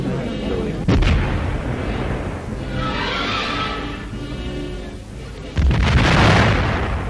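Heavy explosive blasts during a German military assault-engineer exercise, with a deep boom near the start and another louder burst later over a continuous rumbling roar, heard on an old 1942 newsreel soundtrack.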